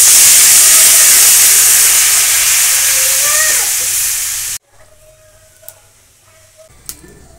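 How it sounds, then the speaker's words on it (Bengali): Water poured into a wok of frying potatoes and papaya sets off a loud, steady steamy hiss for several seconds. It cuts off abruptly, leaving faint clinks and light ticking sounds. "আলুগুলো কষা হয়ে গেছে, এখন আমি পেঁপে জল দিয়ে দিচ্ছি।"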